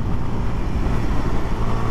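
A 2023 Kawasaki KLX230SM supermoto engine pulling hard under acceleration, a loud, steady low buzzing drone mixed with wind rush, heard from the rider's position.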